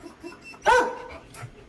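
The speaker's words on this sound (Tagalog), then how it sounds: "No, tahol na tahol." A German Shepherd lets out a single loud, sharp bark that trails into a brief whine, with a faint yip following; otherwise quiet.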